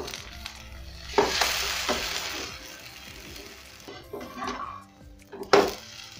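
Egg omelette mixture poured into a hot pan and frying with soft sizzling, punctuated by a few sharp clinks and scrapes of a utensil against the pan, close and fairly quiet, with no voices.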